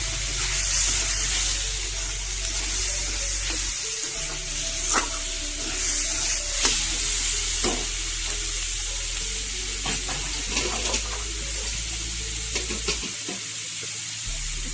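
A spoon stirs green chilli paste into a Bengali fish curry of mirgel fish and potato in a hot pan. The scraping sounds close and irregular over a steady oil sizzle and a constant background hum.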